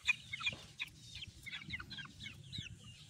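Banded gamefowl roosters of a bulik variety cluck softly and repeatedly at a distance, a string of short, faint calls over a low background rumble.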